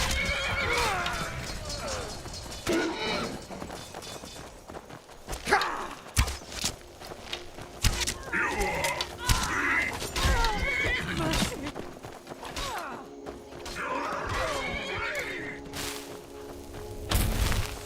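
A horse in Skyrim whinnies several times, with clip-clop hooves, thumps and other game noise around it and no voices over it.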